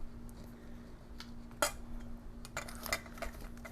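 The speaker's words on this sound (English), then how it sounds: "you can use a knife, 2 knives together by doing like a cutting action against each other" Two knives scrape and clink against each other in a bowl while cutting butter into a streusel topping for Dutch apple bread. The metallic taps come quietly and irregularly, with a few sharper clatters.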